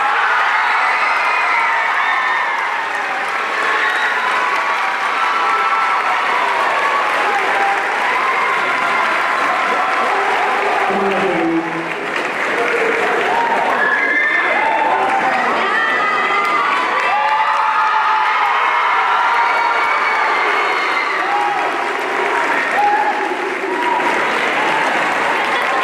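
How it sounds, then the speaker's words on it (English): School band concert audience bursts into long applause mixed with cheering, whoops and children's shouts, a loud dense crowd roar with voices rising above the clapping throughout. "I want y'all to please give this student a big round of applause"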